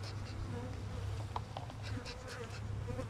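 Many honey bees hum in a dense, continuous drone at the hive, close by and steady, with individual buzzes flitting in and out.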